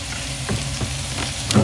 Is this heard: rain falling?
no